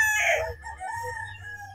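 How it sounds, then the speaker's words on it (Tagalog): Roosters crow at a gamefowl farm: one loud, close crow opens, then softer clucking and a steady low rumble of farm background carry on underneath. "mga manok niya rito, mga early bird mga idol"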